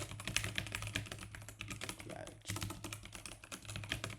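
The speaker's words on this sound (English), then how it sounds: "Trigger warning for keyboard again." Rapid clattering keystrokes on a computer keyboard, close and continuous with a brief pause midway, over a low steady hum.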